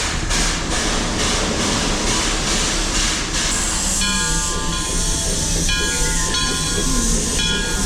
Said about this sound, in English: see if we can find some old steam trains